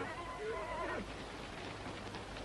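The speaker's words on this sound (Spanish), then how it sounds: "Los caballos están sufriendo, capitán." Horses whinny in a western film scene, a loud neigh rising and falling over the first second, then fading into steady outdoor background noise.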